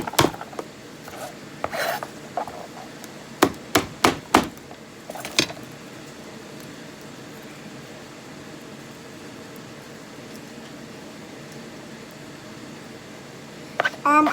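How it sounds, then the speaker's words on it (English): A kitchen knife chops garlic cloves on a cutting board while preparing a Greek homemade spaghetti sauce: a quick cluster of sharp, close chops in the first five seconds, then quiet room hum and one last tap at the end. "now I'm gonna go ahead and chop up my garlic"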